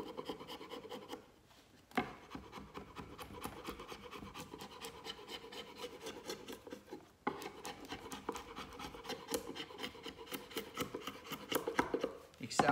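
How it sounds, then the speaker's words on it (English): Scraper stripping heat-softened plastic paint coating from the wooden body of an Ibanez guitar: continuous rapid rasping strokes, close and steady, with a brief pause before resuming. "As soon as it's cooled down a bit, it will get harder and harder to scrape."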